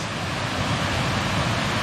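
Water rushes over a weir on the River Churnet at Consall in a steady, dense roar that holds level throughout, close and loud, with no voices.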